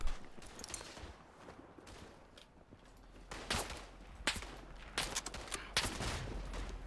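Rifle fire from the World War I shooter Tannenberg, several sharp reports cracking out at irregular intervals in the second half over a busy battlefield rumble, with a few shots close and loud and others more distant.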